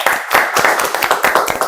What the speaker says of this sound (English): let's do a little bit of a round of applause because we have an audience today